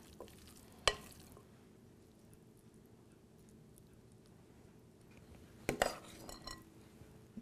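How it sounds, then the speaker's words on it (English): A utensil quietly stirs tuna and pepper stuffing with lemon juice in a bowl. Two sharp clinks against the dish stand out over the faint, soft mixing. "And mix this all around."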